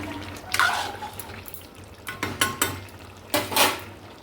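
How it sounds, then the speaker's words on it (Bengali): Food is stirred in a metal pot on the stove, with a spoon knocking and scraping in short, irregular clinks and bursts against a quiet background. "ভালো করে নেড়ে চেড়ে নিচ্ছি"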